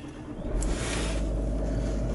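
Range Rover 3.6 TDV8 Vogue SE diesel V8 starting by keyless button, the engine catching after a brief crank and settling into a steady, low, close idle rumble, with no talking.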